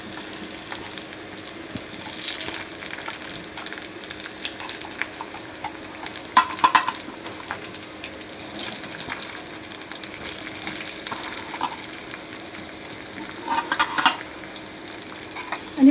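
Food frying in hot oil in a home kitchen pan, a steady close sizzle with stirring scrapes and occasional louder bursts throughout.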